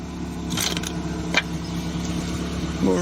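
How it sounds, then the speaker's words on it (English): A car engine idles with a steady low hum after fresh oil, fairly quiet, with a couple of brief clicks and a short sound near the end. "The oil has flowed nicely, car's running, sounds beautiful, quiet."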